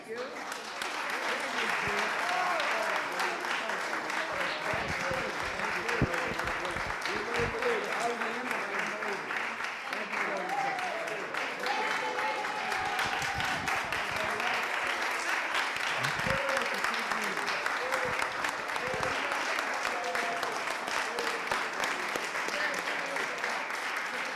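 Sustained audience applause fills a school board legislative meeting hall, honoring newly recognized Pittsburgh Public Schools alumni, steady and fairly loud from start to finish with scattered voices mixed in.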